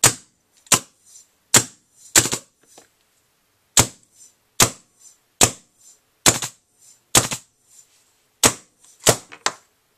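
Single sharp shots from a DLX Luxe paintball marker with a leaking grip frame, about a dozen crisp pops fired one at a time at irregular intervals, each followed by a brief mechanical rattle, close and loud with silence between them.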